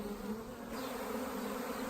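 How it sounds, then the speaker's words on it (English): A very large honeybee swarm hums in a dense, continuous buzz, fairly close and steady, with no voices over it. "So this is by far the largest swarm I have ever been called out to collect."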